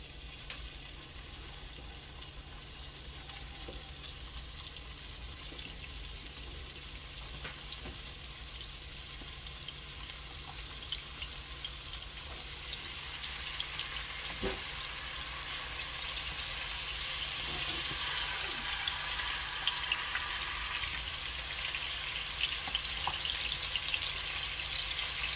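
Beef tips sizzle steadily in a skillet as seasoning goes on, a continuous broadband frying hiss that grows slightly louder over time, with occasional soft clicks and no talking.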